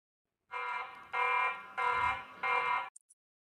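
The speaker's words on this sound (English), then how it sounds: "You can use sound as well as light for the alarm." Siren-style alarm from a TP-Link Tapo C500 outdoor pan/tilt security camera: four loud, steady electronic tone bursts with short gaps, then two brief faint blips, nothing else audible.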